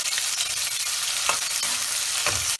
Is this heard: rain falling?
no